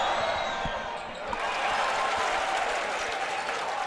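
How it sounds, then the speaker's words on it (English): Loud, rowdy crowd noise fills a high school varsity basketball game between St. Ignatius and St. Edward, with steady cheering, student chanting and scattered ball bounces throughout. "The crowd is getting very rowdy."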